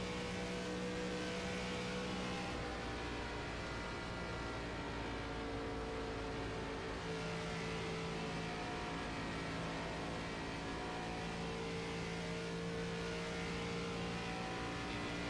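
An ARCA-series race car laps the racetrack, its engine holding a loud, steady droning tone with faint shifts in pitch throughout, no talk heard.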